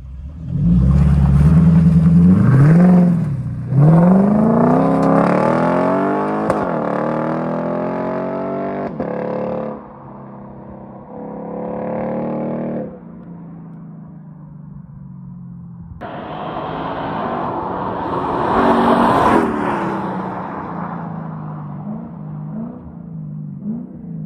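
A 2UR-GSE 5.0-litre naturally aspirated V8 in a Lexus IS-F with a straight-piped X-Force exhaust revs up hard several times, loud growling sweeps rising and falling between rumbling lulls, close by with no talk.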